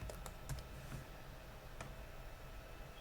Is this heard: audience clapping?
no